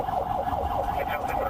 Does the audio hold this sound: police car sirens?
yes